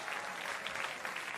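Scattered applause from a small audience cheering for a weekly winner, a steady patter of clapping hands that carries evenly through the moment without any talking.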